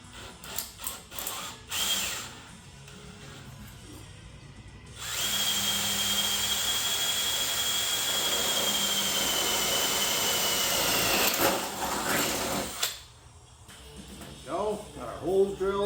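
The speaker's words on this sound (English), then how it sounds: "Got our holes drilled." A power drill bores holes through a 3D-printed headlight part for a C3 Corvette. The drill whines steadily for several seconds at close range, set between shorter bursts and handling noise.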